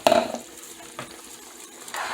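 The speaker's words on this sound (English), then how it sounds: "Stir it around." Garlic lemon pepper seasoning being stirred into melted butter in a pan, a scraping and clinking of utensil against cookware up close, starting with a brief louder clatter and then settling into softer swirling sounds.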